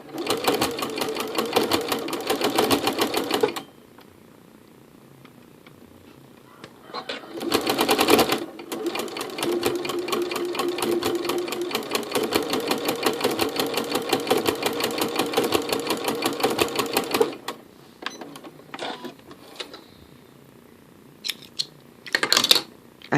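Janome Skyline S7/S9 sewing machine stitching fabric with a ruffler foot, running in fast rhythmic bursts with short pauses between, close and clear, ending with a few scattered clicks and taps.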